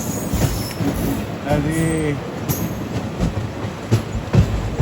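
A passenger train near Chandragiri, heading to Pakala Junction, rumbles along the rails with steady wheel noise and rhythmic clacks, a squeal-like tonal whine in the middle, and someone speaking briefly over it.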